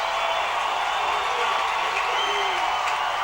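Oak Ridge fans at a high school football game cheer in a loud, continuous crowd roar with whoops and scattered clapping, and a voice talks over it.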